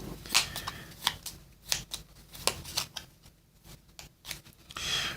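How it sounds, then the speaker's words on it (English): A deck of board game cards is shuffled by hand at a tabletop game session, giving a run of quick riffling and sliding bursts with soft taps, close and fairly quiet, with no talking. "We need to shuffle these cards, and we take a fatigue card"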